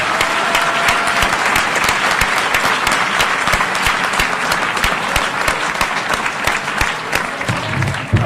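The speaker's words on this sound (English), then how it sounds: "I also think we should give one more round of applause to our terrific sponsors" Audience members at a 2014 congressional candidates' forum give a sustained round of applause for the event sponsors, loud, dense clapping from many people that holds steady for over eight seconds without speech.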